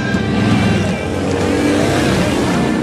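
Harley-Davidson Dyna motorcycles ride loud and fast, their engines roaring in a steady, dense drone up close with no pauses and no voices.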